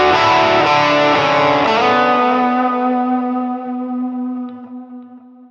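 A PRS electric guitar on its full bridge humbucker plays a loud, distorted rock chord that is struck a few times and then rings out, decaying over several seconds.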